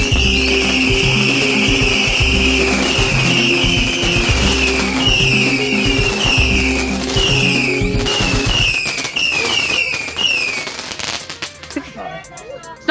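A very noisy Bonfire Night firework going off, loud repeated screeching whistles over rapid crackling bursts for about nine seconds, then dying into scattered pops and faint outdoor sounds.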